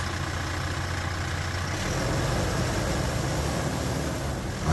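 A Toyota Hiace Commuter van engine idles steadily after an oil and filter change, a constant close mechanical hum with no voices.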